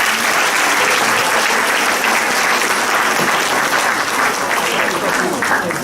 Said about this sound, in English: A round of applause for Professor Raychaudhury.